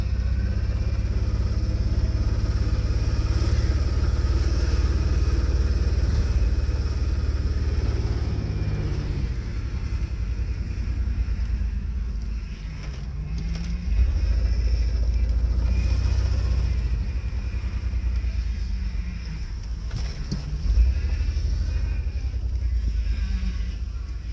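A car engine revived after sitting dead runs steadily for a long stretch, a loud low rumbling idle with small surges and dips, close by and continuous.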